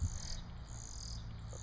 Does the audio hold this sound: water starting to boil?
no